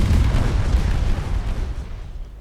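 Close-range barrage of 7-inch naval guns in a warship battle game, heavy overlapping low booms rumbling continuously and then slowly fading out.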